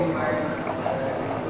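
In-house soda water poured into a glass at a water tasting in a Mumbai hotel, a steady close fizzing and splashing stream that holds evenly throughout.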